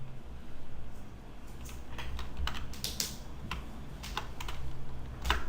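Close, quiet typing on a computer keyboard, with scattered key taps in short bursts over a low background hum and a firmer press of the Enter key near the end.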